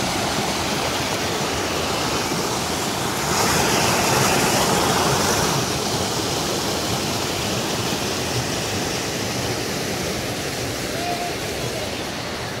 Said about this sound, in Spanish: Ya va el río.